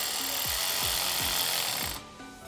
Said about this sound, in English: Now fully tighten it, as you will not be able to access this bolt once the skid plate is on.